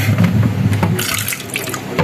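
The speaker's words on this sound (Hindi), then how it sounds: "ये हमने इसमें पानी मज़ीद डाल दिया ताकि हम और इजीली इसके बादाम निकाल सकें" Water pours into a pot of apricots for khubani ka meetha, a Hyderabadi dessert, making a steady, close, continuous splashing rush with no talk.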